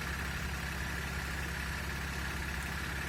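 The three-litre diesel engine of a Mercedes-Benz Sprinter van idles steadily up close, a constant low rumbling drone with a rough, even throb and no other sounds.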